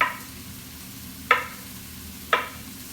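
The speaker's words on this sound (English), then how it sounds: "I'm just going to go ahead and put it in the pan and let it cook for about 3 minutes." Carne asada frying in a pan, a steady close sizzle broken by two sharp scraping clinks a second apart, with no voices.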